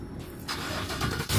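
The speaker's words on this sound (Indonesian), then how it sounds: "Mesinnya menyala." A GMC Yukon engine fires up by remote starter, a sudden broadband crank that settles into a steady, close idle and then swells once more near the end.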